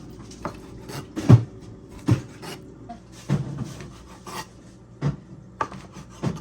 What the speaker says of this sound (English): So I'm slicing the bacon up the long way